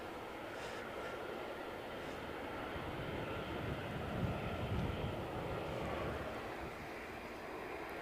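An airliner departing Edinburgh Airport for Atlanta during a storm, a low distant engine rumble blended with wind noise that swells slightly toward the middle.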